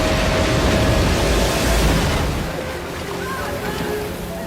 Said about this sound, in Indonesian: sebuah ombak setinggi 30 meter mulai menghampiri